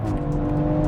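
A 2021 BMW X4M Competition cruising on the road, its engine giving a steady, loud, close-up drone with strong low harmonics and no speech, sustained evenly through the short moment.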